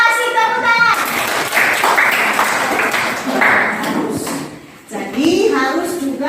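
Applause from a classroom audience during a teaching-practice lesson at SMPN 1 Sidua Ori junior high school in South Nias, a scattered burst of clapping mixed with children's voices and talk, fading out before a voice resumes.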